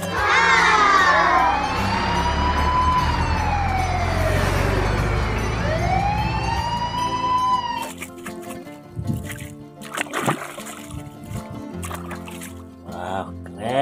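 A toy fire truck's siren wails in sweeping up-and-down tones, loud and continuous for several seconds before giving way to clattering toy sounds, with no talk over it.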